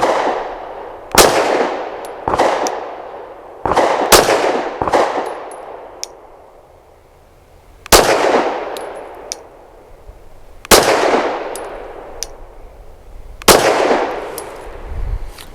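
Glock 19 pistol fired at steel targets from 21 feet: a string of loud, sharp shots at irregular intervals, each followed by a metallic ring from the struck steel, with a quieter pause mid-string.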